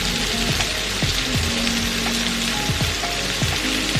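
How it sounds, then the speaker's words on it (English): Tofu, peppers and shallots frying in a pan give a steady, loud, close crackling sizzle with dense popping throughout, broken by faint falling whistle-like tones, and no talk over it. "you want each side to fry nicely, you want it all to crisp up nicely"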